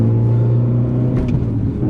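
A rally car engine under acceleration while its chassis is tested on tyres set to 2 bar, a loud, steady rumbling drone close to the microphone that runs the whole time with a slight change near the end, with no talk.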